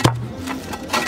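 Several sharp metallic thuds strike at an uneven pace, each leaving a short ringing tone, as a heavy tamping bar packs earth around a fence post.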